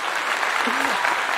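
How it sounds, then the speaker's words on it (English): Brief applause for guests on a livestream, light steady clapping that continues across the short moment and sits under talk. "I gotta give them a clap."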